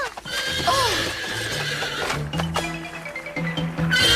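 A horse neighs in an animated Cinderella episode, one rising and falling whinny near the start over background music and effects, with hoof clip-clops and other cartoon sounds following.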